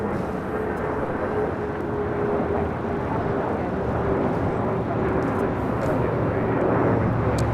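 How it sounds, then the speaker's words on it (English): Alaska Airlines Boeing 737-900ER arriving at LAX from Puerto Vallarta, a continuous broad jet rumble at moderate distance, fairly even with a slight rise toward the end. "This is Alaska Airlines Flight 1355 coming in from Puerto Vallarta and a 737-900 ER"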